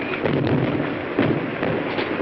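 Gunfire in a 1936 science-fiction film, a dense crackling burst of shots rattling continuously without pause, loud and close, on an old muffled soundtrack.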